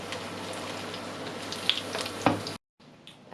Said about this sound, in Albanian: do skuqim të gjitha patlıxhanet